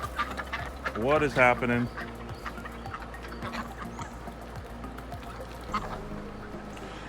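Ducks flying overhead near a backyard chicken yard, giving a short burst of loud, rising quacks in the first seconds, then fading to scattered calls under a person's brief spoken question and outdoor background noise.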